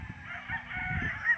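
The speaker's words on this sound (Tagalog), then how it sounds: "Napakadaming manok." Chickens cluck and call in a short burst nearby, with a rooster-like crow drawn out over a low background murmur.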